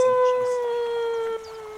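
A person imitates a wolf howl with a single sustained, slightly falling tonal voice lasting under two seconds, close and moderately loud, with no other sounds.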